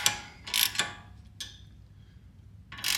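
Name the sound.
ratchet wrench tightening a rear control arm bolt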